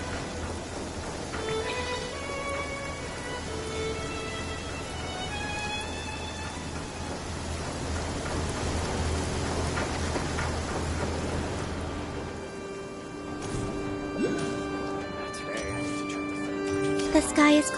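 Steady rain falls in the Genshin Impact video game, an even wash of pattering noise that runs under a melodic game music score and later thins out as bright chimes and tones take over.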